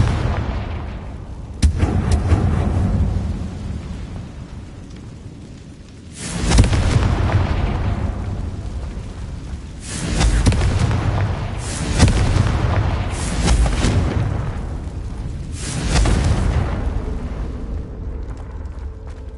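Confringo blasting spells in Hogwarts Legacy, a run of loud booming explosions in quick succession, each a heavy burst with a rumbling tail, separated by brief lulls.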